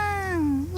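A single drawn-out cat meow in a video game, bright and close, sliding gently downward in pitch for nearly a second with no talk over it.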